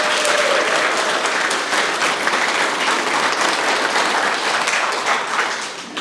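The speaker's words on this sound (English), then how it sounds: "give them another round of applause" Pageant contestants at the Miss Samoa NSW pre-pageant interviews receive a sustained round of crowd applause, dense and loud, easing off slightly at the end.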